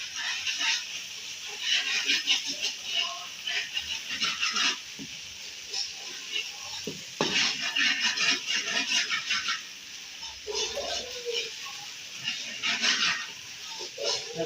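Onions and garlic paste fry and are stirred in a pan for a desi chicken and potato curry, giving a steady, bright sizzle throughout with occasional soft scraping.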